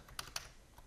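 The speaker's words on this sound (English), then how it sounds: "So we're going to type in" Two crisp keystrokes on a computer keyboard, close and quick, spaced about a fifth of a second apart, with a fainter tap at the end and no voices.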